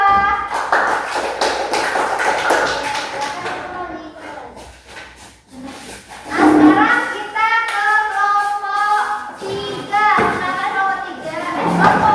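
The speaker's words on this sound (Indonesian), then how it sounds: "tepuk tangan untuk kelompok 2" Classroom of students clapping for a presenting group during a lesson, scattered taps and claps mixed with children's voices and chatter, fairly loud and close.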